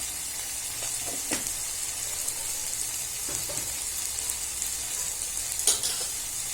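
Ridge gourd palya fries in a pan as chili powder, turmeric and coriander powder are stirred in, giving a soft steady sizzle with a few scraping strokes of a spoon, faint and without talk.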